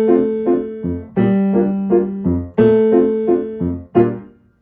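A piano plays the low left-hand secondo part of a duet, a few sustained bass notes and chords struck one after another, each ringing and decaying, with no voices.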